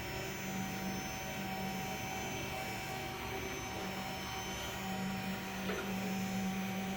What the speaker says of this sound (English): Rack and pinions are not known for being quiet due to the friction between the gear teeth, but this is definitely a manageable noise level.